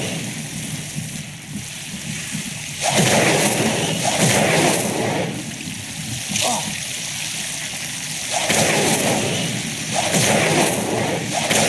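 An Incendio fire spell is cast in Hogwarts Legacy, and two loud roaring, whooshing blasts of flame rise and fall over a low rumbling background.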